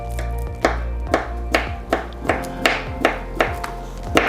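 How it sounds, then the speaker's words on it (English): A knife chops vegetables on a cutting board in steady, evenly spaced thuds, about ten sharp close knocks over a low constant hum. "So give me a moment while I chop these vegetables up."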